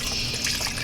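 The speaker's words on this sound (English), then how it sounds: "and I'm going to add nice broth in here." Broth pours steadily into a Le Creuset cast iron Dutch oven for tortellini and ham cream soup, a close, continuous liquid rush with no talking.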